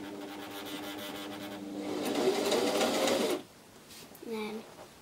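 A domestic sewing machine stitches fabric for a hair scrunchie in a short whirring run that swells louder, stops abruptly, and gives way to a brief quieter burst, with a voice present near the end.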